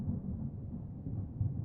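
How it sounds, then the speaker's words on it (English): Low, continuous rumble of thunder in Deadly Premonition 2, a steady rolling boom with a slight swell near the end, no voices. "Thunder snow is coming."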